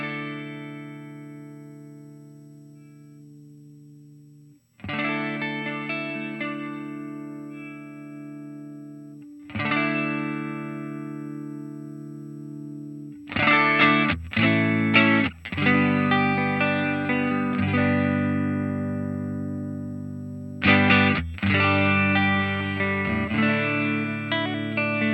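A clean electric guitar tone on the neck pickup through a Line 6 HX plays sustained chords that ring and decay, followed by quicker strummed and picked phrases, with no talking.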